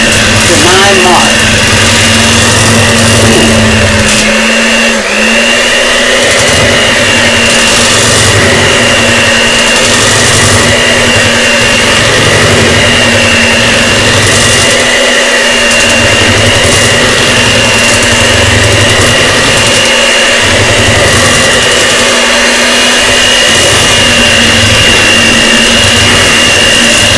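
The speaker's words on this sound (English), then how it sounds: "I have a KitchenAid stand mixer" KitchenAid stand mixer whipping a doubled sweetened condensed milk buttercream with cream cheese, a loud steady motor whir running throughout with brief dips, under occasional talk.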